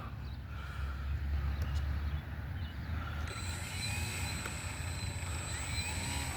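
A Hobbyzone Carbon Cub S2 1.3 m RC airplane takes off outdoors on a drizzly evening, its electric motor rising into a thin, high whine partway through, fairly faint over a steady low rumble of ambient noise.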